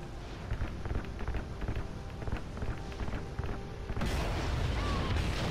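Rapid gunfire and booming blasts from a military shooter campaign battle, dense and continuous with impacts layered over a rumbling backdrop, growing louder and harsher toward the end.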